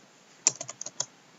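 Quick keystrokes on a computer keyboard, a brief flurry of about six close, fairly soft taps in under a second.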